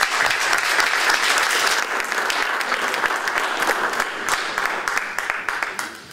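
An audience at a forum on Argentina and democracy in Latin America applauds its four panelists, a full and sustained wash of clapping that eases slightly toward the end.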